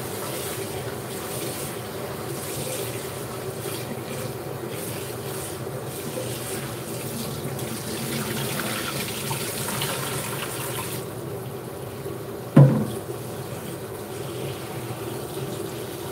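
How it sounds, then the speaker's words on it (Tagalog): Tap water running into a sink while kangkong (water spinach) is washed, a steady close rushing splash that goes on throughout, with one brief knock near the end. "Hugasan muna natin ang ating kangkong."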